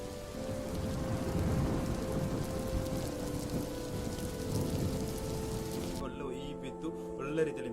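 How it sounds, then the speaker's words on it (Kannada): Rain falls steadily in Kepu village near the Karnataka–Kerala border, a dense, even patter on surfaces with low rumbles of thunder and a faint tonal hum running underneath. "ಮಳೆ ಬಂತೆ ಈಗ"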